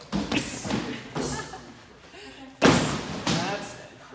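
Elbow strikes land on a training pad during Krav Maga practice, giving several dull thuds and slaps at irregular intervals, close by, while an instructor speaks over them.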